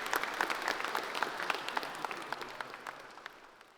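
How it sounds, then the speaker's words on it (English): Applause from a conference audience for a sponsor at a UI/UX evening event, many hands clapping in a lively patter that gradually thins and fades toward the end. "Can I please get a big round of applause for Yum Brands?"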